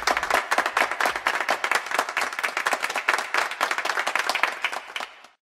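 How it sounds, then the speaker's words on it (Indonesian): An audience claps enthusiastically at a Q&A event, with dense, steady applause that carries on for several seconds before cutting off abruptly. "Berikan tepuk tangan yang meriah."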